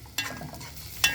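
Grated onion frying in a pan gives a steady, faint sizzle with brief louder bursts near the start and end as it is stirred, no voices over it.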